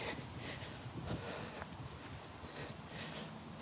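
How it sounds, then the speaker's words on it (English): Gusty wind blows across an outdoor afternoon stroll in the UK, a continuous rushing rumble buffeting the microphone with small surges and no speech. "And it's pretty windy."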